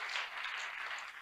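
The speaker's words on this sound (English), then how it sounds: "A round of applause for the governor of Adamawa State." Steady crowd applause, a dense wash of many hands clapping that holds at an even level throughout with no voices on top.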